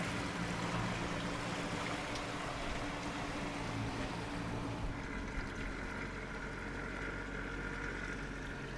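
A 2004 Pro-Line 30 Express motorboat cruising at about 34 mph gives a steady engine drone mixed with rushing water and hull noise, continuous throughout and shifting slightly in tone partway through.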